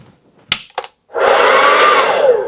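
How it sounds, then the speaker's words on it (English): A hotel-room hairdryer switches on after two brief knocks and runs with a loud, steady whirring roar to the end, close to the listener and with no voices. "Good sounding hairdryer."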